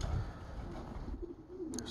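Young pigeons coo softly in a low, murmuring call near the start, faint and brief against outdoor background noise.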